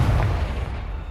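A Confringo fire spell in the Hogwarts Legacy video game bursts in a single close, heavy boom that decays over about a second.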